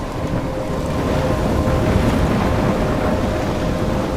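A storm in the video game Life Is Strange gives off a steady, dense roar of wind and rough water, loud and unbroken throughout with no talking.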